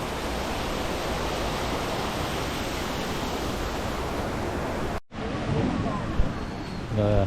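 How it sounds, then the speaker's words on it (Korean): Small waterfall in Takachiho Gorge, a steady loud rush of falling water filling the scene, cutting off abruptly partway, then returning with fainter background sounds. "미니 폭포."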